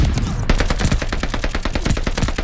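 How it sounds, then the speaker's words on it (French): Rapid automatic gunfire in the video game Call of Duty: Vanguard, loud and close, with a dense string of shots rattling on without a break through the whole stretch. "Oh là là, j'ai mis des balles à tout le monde."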